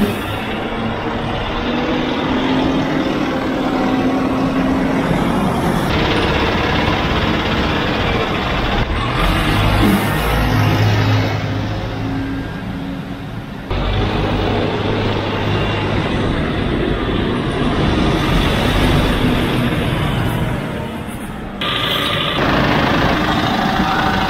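A Deutz-Fahr 6130 TTV tractor engine runs steadily close by, a loud even diesel drone with a constant low hum and slight shifts in tone.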